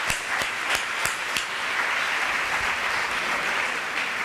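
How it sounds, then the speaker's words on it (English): Steady applause from an audience at a talk on creativity in development, with a few sharp individual claps standing out early before the sound settles into an even, sustained wash of clapping. "And a round of applause, please."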